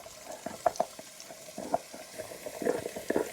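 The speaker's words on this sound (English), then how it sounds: "saute your onions and your garlic" Onions and garlic sautéing in a pan after Italian sausage was cooked for a soup, giving a soft steady sizzle with several sharper scraping stir strokes, close and moderately quiet, no talking.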